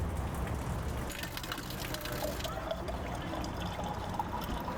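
Mineral water from Manitou Springs' Shoshone Spring, rich in manganese, trickles and pours steadily in a continuous close splashing wash with no clear pauses.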